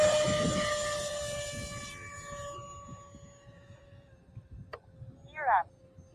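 RC 80 millimeter ducted-fan jet airplane flying past, a high whining tone that fades into the distance, with people talking nearby and a brief sharp noise near the end.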